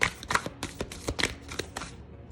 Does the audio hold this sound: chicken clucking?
no